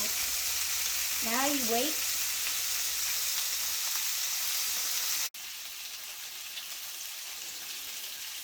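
Bacon strips laid out in a pan fry as a loud, steady, close sizzle, with a brief spoken remark and a whistle-like tone early on and a short break midway.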